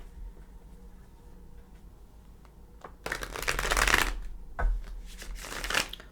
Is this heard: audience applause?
no